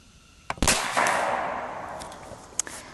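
A Seneca Dragon Claw .50 caliber PCP air rifle fires a single sharp, loud report near the start, followed by a fading hiss and a couple of small clicks.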